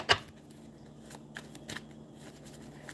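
Tarot cards being shuffled indoors, a soft crisp riffle at the start followed by faint scattered flicks and taps, quiet and close with no voices.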